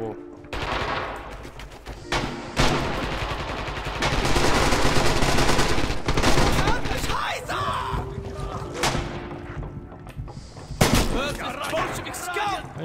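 Rapid rifle and machine-gun fire in the Rising Storm (Red Orchestra 2) battle game: loud bursts of repeated shots and heavy thuds, some close and some farther off, with a voice talking in between.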